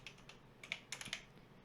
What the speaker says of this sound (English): And we're going to type in Twitch.